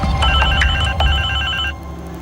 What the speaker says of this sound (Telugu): ఫోన్ తీసి చావండ్రా